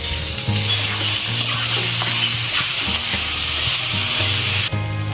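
Steady, close sizzling of rice frying in hot oil, with scraping stir sounds and a soft musical tone running underneath.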